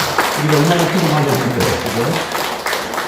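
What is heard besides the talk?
congregation applause welcoming a church member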